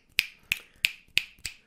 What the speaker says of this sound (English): I'm just clicking my fingers